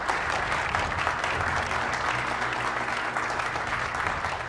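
Dense, steady applause from an audience filling a charity auction hall, continuous clapping at full volume with no pauses throughout.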